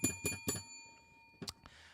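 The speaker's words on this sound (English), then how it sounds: "Ring the bell." A bell rings three times in quick succession at the start, each strike leaving a bright sustained ringing tone, followed by a couple of brief clattery noises.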